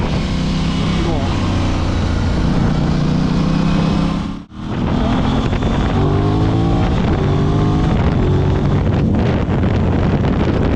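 An Aprilia RS 660 sport motorcycle under way, its engine droning and rising through the revs beneath heavy wind buffeting on the microphone, with a brief dip mid-ride before pulling hard again, loud and close.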